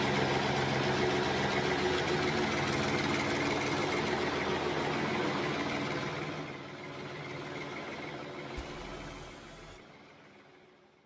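A John Deere tractor engine runs loud and steady with a deep idling rumble, easing slightly later on, with a brief hiss near the end before it cuts off.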